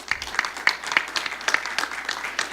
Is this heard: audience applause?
yes